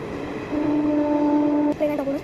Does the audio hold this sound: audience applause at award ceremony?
no